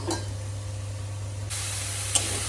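Eggplant frying in a covered pan gives a steady, close hiss and sizzle that holds level throughout, brightening partway with a brief sharp crackle near the end, no voices.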